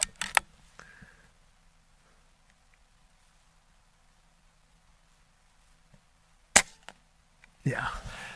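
An Air Arms S510 XS air rifle fires, sharp crisp cracks at the start and one clean snap near the end, separated by near silence, with a brief rustle after.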